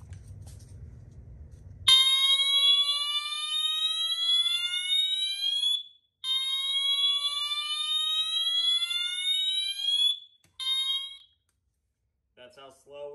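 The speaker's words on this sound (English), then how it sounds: "I now have the alarm on slow whoop, and we're going to plug it in and see how it sounds like" A Wheelock MT-24MCW fire alarm on its slow whoop tone sounds loud and close, each piercing tone sweeping slowly upward and repeating in long cycles with brief gaps, ending in a clipped partial sweep.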